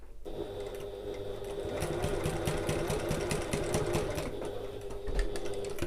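A sewing machine stitches extra pockets in a steady, close run, its motor humming continuously with rapid needle chatter and no pauses.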